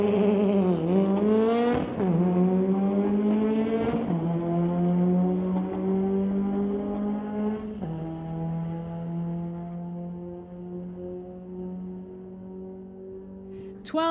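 At a drag strip, a 2009 BMW and a 1973 Volkswagen Beetle launch and race, with strained engine drones that rise and fall through several gear changes before fading, loud and steady.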